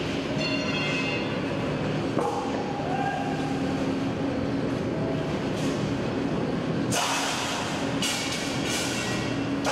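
The roughing stage of a steel rolling mill rumbles in a loud, continuous industrial roar, with metallic screeches, clanks and bursts of hissing rising above the drone.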